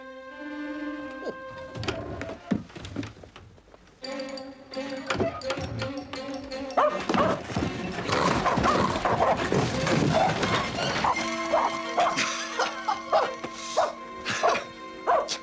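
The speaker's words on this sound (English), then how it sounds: "You're surely not frightened of a tiny little dog, Jeeves." A tiny dog yaps, yips and whimpers in an English country house, with repeated sharp barks and whines that grow busier and louder over time, mixed with background noises and voices.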